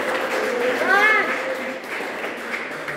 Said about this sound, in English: Right, boys, clap for yourselves.